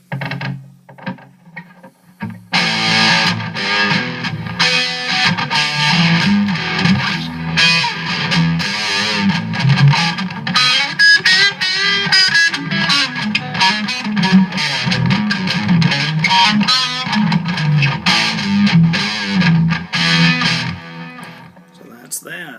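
A late-1960s or early-1970s Barcley electric guitar is played loud through distortion, with fast, dense runs sustaining for about twenty seconds after a quiet start.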